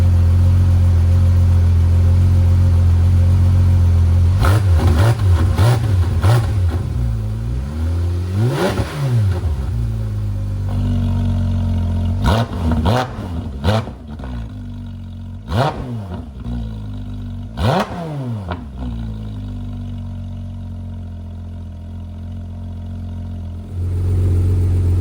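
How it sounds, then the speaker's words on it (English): A Porsche GT4 RS fitted with a Valvetronic cat-back exhaust fires up and idles with a deep, steady rumble, then is blipped through a series of sharp revs of varying length before settling back to idle, loud and close. "try and start up the car for the first time."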